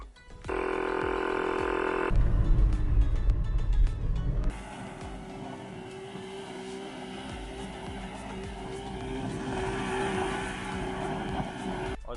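A second-hand Honda car, newly bought at auction in Japan, drives away, its engine droning steadily at close range with a louder stretch of revving before settling into a softer, even hum.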